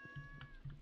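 A cat meows once in the Stardew Valley farming game: a short, clear meow over steady, soft background music tones.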